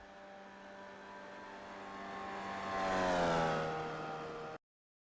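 A Formula Vee race car engine in iRacing drones steadily at high revs, swelling louder as it passes through Eau Rouge, then cuts off abruptly.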